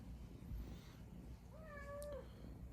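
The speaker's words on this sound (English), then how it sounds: "Oh, and my cat wants to visit us next time." A house cat meows once, a fairly faint, drawn-out call rising out of quiet room noise near a workbench, with no talking.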